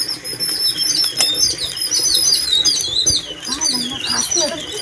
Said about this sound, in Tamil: குருவிகள்லாம் கத்துது பார்த்தியா